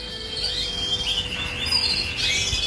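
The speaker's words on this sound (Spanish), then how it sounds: "Ahí tengo los pájaros sueltos, que tengo 4 o 5 que están comiendo ahí" Several loose birds chirp and tweet in a breeding aviary, with high, bright calls overlapping steadily at moderate distance against a faint low background hum.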